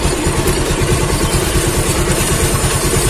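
A Bajaj Pulsar 220F motorcycle engine runs in gear while stationary, a steady loud rumbling drone with rapid low pulsing, close up and continuous with no talk.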